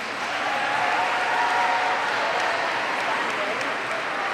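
Sustained, dense applause from an audience at a middle school 6th and 7th grade awards ceremony, steady and fairly loud across the whole stretch with a faint crowd murmur beneath.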